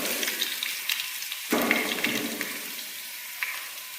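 Sliced onion dropped into hot coconut oil with a small piece of cinnamon for chicken roast: a light sizzle that suddenly swells into a loud, steady hiss, then slowly settles.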